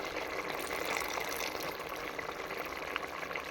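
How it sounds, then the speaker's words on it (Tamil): Tamarind water is poured into a pot of cooking sambar, giving a continuous splashing, gurgling liquid sound at close range, fairly loud and even, with no talking. "இப்போ புளி தண்ணி சேர்த்துக்கலாம்."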